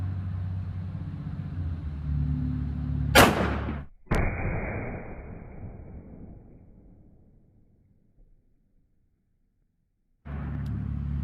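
A single sharp 9mm gunshot from a full-size Smith & Wesson M&P pistol firing Speer Gold Dot ammunition, loud and close, with a long rumbling decay fading over several seconds amid steady background noise.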